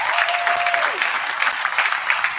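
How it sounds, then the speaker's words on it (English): A high school gym crowd at a varsity basketball game applauds the players' parents, with steady, loud, sustained clapping that fills the hall and carries no speech. "Let's give another round of applause for our parents"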